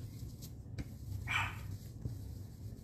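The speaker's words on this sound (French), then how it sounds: "mes chiens n'arrêtent pas de japper" A dog gives a single brief, high yap at a moderate distance over a low, steady room hum, with a few faint soft thuds around it.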